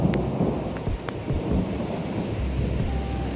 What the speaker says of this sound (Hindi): ज़ोर से बारिश हो रहा है हमारे इलाके में